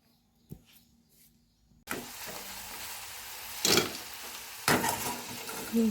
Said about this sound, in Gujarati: અને ચિપ્સ તળી નાખું ને થોડાક માંડવીના બિયા તળી નાખીશ.